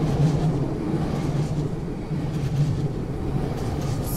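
A Newag Impuls electric train passing through Warsaw Powiśle station bound for Radom Główny, a loud continuous low rumble with rhythmic wheel thumps and rolling noise throughout.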